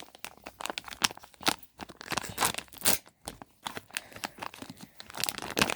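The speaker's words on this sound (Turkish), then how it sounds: "Şimdi diğer Barbie açalım." A Barbie surprise toy package is torn open and crinkled close up, giving a rapid run of ripping and crumpling bursts with short pauses between them.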